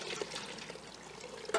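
Warm water from a stove-heated pot being poured over bleached hair to rinse it, a soft, steady splash and trickle close by, with no speech.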